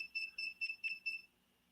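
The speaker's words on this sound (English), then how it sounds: "that's your catch alarm" Fishing catch alarm on a pole beeping in a house, a rapid series of about six high, electronic chirps at moderate volume, then stopping, with no talk over it.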